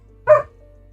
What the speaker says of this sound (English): Dog's being very loud